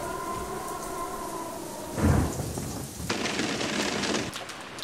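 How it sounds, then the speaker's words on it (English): Steady rain patters while a low rumble of thunder swells midway, followed by heavier rain hissing on surfaces. "I think a storm is a coming."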